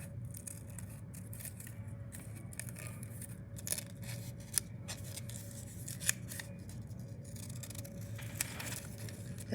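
Scissors cutting paper, repeated crisp snips and rustling slides at an irregular pace, close but fairly quiet, over a faint background hum, with no one speaking.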